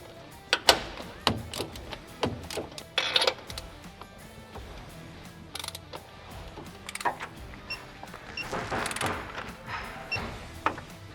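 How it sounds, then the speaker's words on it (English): A torque wrench tightens the U-bolt nuts on a Nissan Xterra with a series of sharp metallic clicks and ratcheting bursts, irregular and close, separated by brief handling noises. "so I got my torque wrench and we're gonna go ahead and torque these down to 87 foot-pounds"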